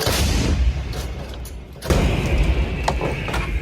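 An FH-70 howitzer fires midway, a deep booming thump followed by rumbling echo over a noisy outdoor background.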